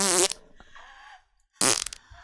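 Fart sound effect played from a soundboard, two loud buzzy bursts separated by a brief quiet gap, the first trailing into a fading sputter, close and punchy with no talk.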